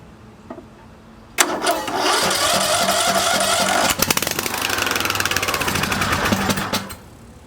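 A junked John Deere mower engine catches after a quiet start and runs loudly and somewhat roughly for about five seconds, with a stumble midway and a fast chattering beat, before cutting out.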